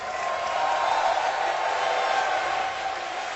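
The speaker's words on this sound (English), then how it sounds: "Crowd, make some noise for these two teams." A crowd roars and cheers at The International esports tournament in Benaroya Hall, Seattle, a sustained dense wash of distant cheering and applause that holds steady throughout, no voices picked out.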